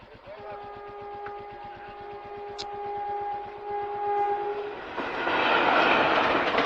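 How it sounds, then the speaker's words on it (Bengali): A train passes a railway level crossing, its horn sounding long sustained tones over rhythmic clickety-clack of wheels, then a loud rushing roar builds as the cars go by close. "জাস্ট 30 সেকেন্ডে গাইস ট্রেন চলে আসলো একদম পুরোপুরি"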